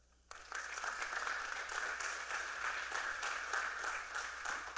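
An audience at a youth town hall applauds young panelists, sustained crowd applause that begins suddenly and holds at an even, full level, a dense wash of many hands with no speech.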